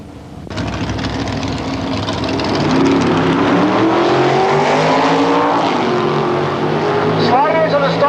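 Vintage drag race cars, including a Ford coupe and a 350-inch Chevrolet, launch and roar down the strip at a 1990 reunion at LA County Raceway in Palmdale, loud rising engine howls with a track announcer talking over them.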